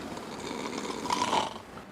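A television entertainer snores while asleep, making one rough, throaty, rattling breath that swells and fades against a steady noisy background.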